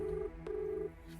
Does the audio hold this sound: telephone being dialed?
yes